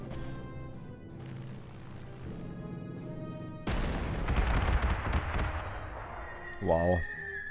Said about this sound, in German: So, hier die Artillerie setzt auf den Panzer ein.